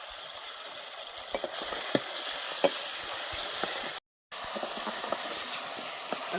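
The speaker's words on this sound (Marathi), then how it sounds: "कांदा टमाटर आपला मसाला चांगला परतून झालाय" Onion and tomato masala sautéing in a pan, a steady soft sizzle with occasional clicks and stirring scrapes, briefly cut silent midway.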